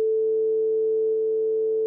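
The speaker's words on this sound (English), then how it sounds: "if you're just generating sound with one frequency" A steady, continuous single-frequency sine tone holds at constant loudness for about two seconds, unbroken and alone.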